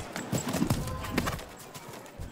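Horse hooves pound a show jumping course at an outdoor competition, a steady rapid galloping rhythm of thuds heard at a moderate distance over arena ambience.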